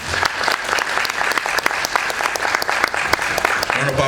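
A crowd at the opening ceremony of a World Soil Day celebration claps in steady, dense applause that fills the whole stretch at an even, loud level.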